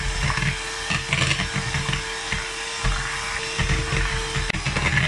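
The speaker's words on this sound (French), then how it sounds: "on va venir fouetter jusqu'à obtenir une texture, la texture souhaitée, ferme, onctueuse" Cream is whipped with an electric mixer until firm and smooth, giving a continuous whirring buzz that wavers in pitch and intensity as the beaters move through the bowl, with no talking.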